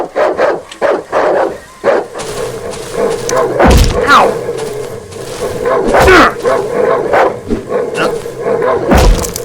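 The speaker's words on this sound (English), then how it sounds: "Oh, that's a lot of dogs." Many dogs bark and yelp in the survival horror game Darkwood, in a busy, repeated burst with thuds and whimpers. A person cries out in pain over the noise.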